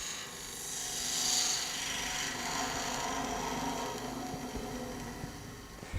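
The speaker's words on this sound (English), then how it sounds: "So that's why I like using the skew on an end grain facing cut." A skew chisel shears across the end grain of a wooden pepper mill spinning on a lathe, giving a steady close-up rasping, rubbing cut that holds for several seconds with a slight swell early on.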